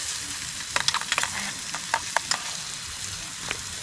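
Onions frying in a pan over a camp stove outdoors, a steady soft sizzle with a few sharp scraping clicks of stirring scattered through, close and fairly quiet.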